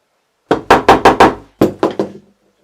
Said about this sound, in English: and then just hammer him on